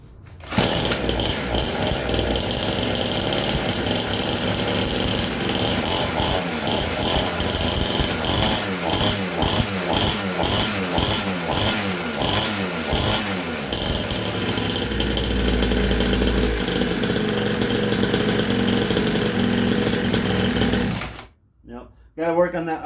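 A Syx Moto dirt bike engine, checked after a track day, restarts and idles with a rough, buzzing, close-up putter. The rhythm pulses unevenly mid-way, then the engine cuts out abruptly near the end.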